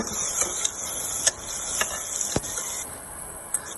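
A spoon stirs garam masala and turmeric through a pan for moong dal, with soft scraping, a faint sizzle and a few sharp metallic clicks against the pan, close and steady with no talk.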